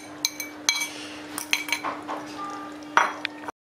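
Eggs are poured over fried potatoes in a cocotte pot, with a few light clinks and taps of utensil on the pot spread across a quiet few seconds, close by.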